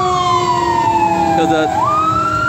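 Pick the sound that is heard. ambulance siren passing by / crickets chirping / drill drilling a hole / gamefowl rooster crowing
ambulance siren passing by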